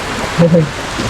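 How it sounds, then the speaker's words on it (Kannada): Steady wash of heavy rain with a brief voice-like murmur rising over it. "ಮಳೆರಾಯನ ಅಬ್ಬರ ಹೆಚ್ಚು ಆಗತ್ತದ"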